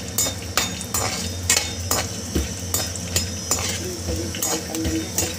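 Almonds frying in oil in a kadhai make a steady sizzle, with rhythmic metal clinks and scrapes of a ladle stirring at roughly half-second intervals, close by.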